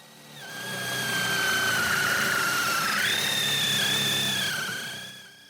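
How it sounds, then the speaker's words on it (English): A drill press drilling wood gives a steady, loud motor whine that rises and holds for several seconds, its pitch dipping under load and then recovering before winding down. "So here I'm using a Miles Craft drill press guide"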